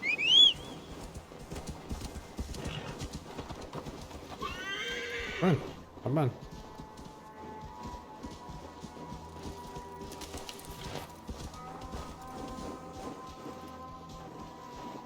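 Horse neighs and whinnies in the video game Assassin's Creed Valhalla, with hooves clip-clopping and rain falling, while a voice urges the horse on.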